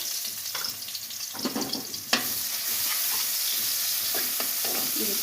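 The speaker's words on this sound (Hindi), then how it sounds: "अब हम इसमें डालेंगे अदरक और लहसुन का पेस्ट।" Ginger garlic paste sizzles and fries in a hot pan, with a steady crackling hiss, a few scraping stirs, and one sharp clink midway.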